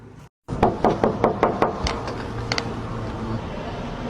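A rapid series of loud, close knocks on a door at a seaside stay, about eight evenly spaced raps followed by a few lighter ones, while a voice speaks over the background.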